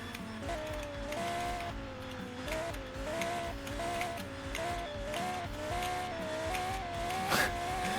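A tuned Audi R8 engine revs in a racing video game, a steady loud drone that rises and dips as the throttle is worked, with a brief sharp burst near the end, backed by constant game sound and no talk.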